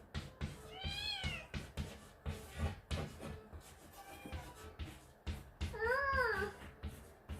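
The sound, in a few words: cat meowing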